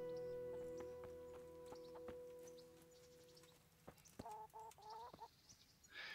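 Chickens cluck in the medieval role-playing game Kingdom Come: Deliverance, a sustained tonal drone giving way to a short burst of clucking near the end, with faint thuds and clatter, at low level and without talk.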